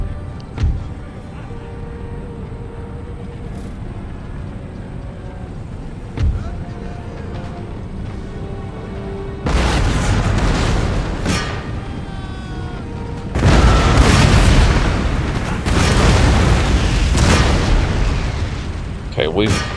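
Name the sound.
cannons firing canister shot, Total War Empire video game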